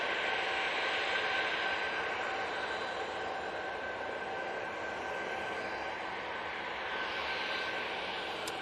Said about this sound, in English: Ryanair from Genoa, just about to touch down